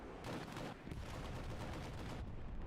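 Machine gun fire in a multiplayer war video game during a competitive league match, a dense continuous rattle of automatic bursts that stays loud and close for the whole stretch.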